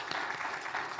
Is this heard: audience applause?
yes